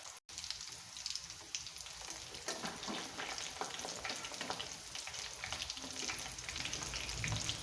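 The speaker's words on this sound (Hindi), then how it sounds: "मीडियम टू लो फ्लेम पे जब एक तरफ से फ्राई हो जाएंगे तो हम साइड चेंज करेंगे।" Potato rolls frying in a pan over a medium-to-low flame give a steady, close oil sizzle with crackling and spattering throughout, with no voices.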